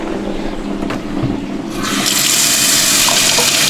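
Warm shower water gushes into an inflatable hot tub, the flow starting softer and then swelling into a loud, steady pour that continues to the end.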